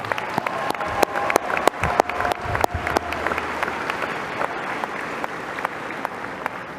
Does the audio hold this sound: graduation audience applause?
yes